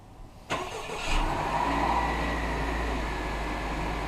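A 2018 Honda Accord Sport 2.0T fires up by remote start, a quick cranking burst followed by the engine catching and settling into a steady, fairly loud idle, heard close with no talk.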